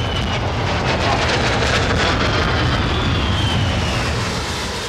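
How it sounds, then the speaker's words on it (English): Jet aircraft roar loudly as they recover onto the Royal Navy aircraft carrier HMS Illustrious. The roar is close, continuous and broadband, filling the whole moment. "Joe, for the jet recovery, plan A, obviously, into the graveyard. I'd like to put all 4 jets in there."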